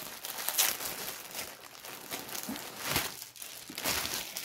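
Packaging crinkles and tears as a Nintendo video game is unwrapped from a monthly subscription box, a soft continuous rustle with a few louder crackles, close by, with no voices.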